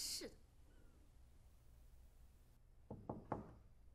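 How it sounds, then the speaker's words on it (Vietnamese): Three quick knocks land on a door in a drama scene, close and sharp, following a faint thump and a short stretch of quiet room tone. "Sao không gõ cửa vậy?"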